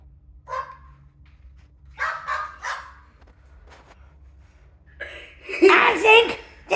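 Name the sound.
dog barking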